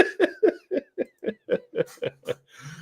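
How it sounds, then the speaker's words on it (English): A man clears his throat on a podcast about Midwest beer, producing a string of about ten short, evenly spaced guttural coughs up close, ending in a low rumbling hum. "let me clear my throat"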